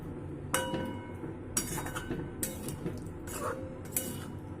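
Metallic clinks and clatters ring out as a lid is set on a cooking pot of karai chicken biriyani, several separate sharp knocks spaced a second or so apart.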